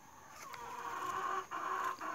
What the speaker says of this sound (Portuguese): essas galinhas caipiras aqui comum